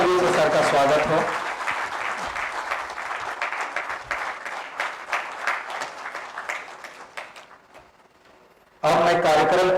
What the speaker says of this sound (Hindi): जोरदार तालियों से सर का स्वागत हो।